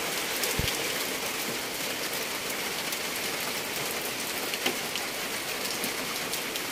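Steady rain falls on garden plants during a storm, an even, dense hiss of drops with an occasional louder patter, continuing without voices.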